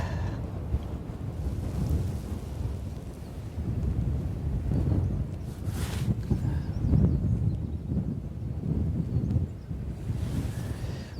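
Wind blows steadily outdoors on a Cornish clifftop during a plein air painting session, a constant roaring buffet with gusts against the microphone and no voices.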